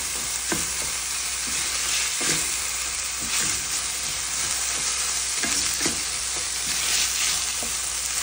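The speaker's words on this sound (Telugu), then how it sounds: "ఇలా ఆనియన్స్, గ్రీన్ చిల్లీ, క్యారెట్ అన్నీ వేసేసి ఒక 15 మినిట్స్ అలా దీన్ని ఫ్రై చేసుకోవాలి" Onions, green chilli and carrot frying for kichidi, a loud continuous sizzle close to the pan with regular spoon scrapes and taps as the mixture is stirred.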